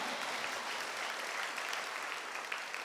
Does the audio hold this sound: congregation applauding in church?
yes